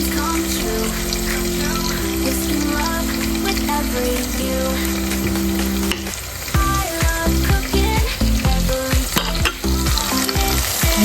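Whole dried fish (shutki) fries in a pan for a Sylheti dish, a loud continuous hiss and crackle set under prominent background music that plays the whole time.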